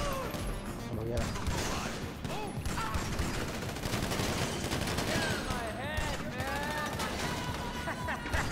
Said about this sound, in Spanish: Méteme más tiros, Dani, si puedes, nada más.